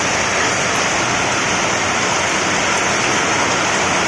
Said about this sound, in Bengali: কি অবস্থা চারপাশটা বলো বৃষ্টি হচ্ছে